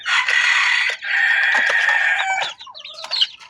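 A labuyo, a small wild junglefowl rooster, crows close and loud in two long strained calls followed by a few shorter clucking notes.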